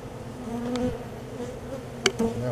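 Honey bees living in a bird house hive buzz close to the microphone, a steady droning hum with individual bees whining past and a couple of brief louder passes.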